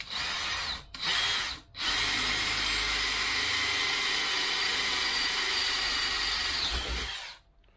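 A power drill bores holes in a part clamped in a vise at a workbench during an overhaul of a 1979 MG Midget 1500, with two short bursts and then one long, steady whine that stops near the end.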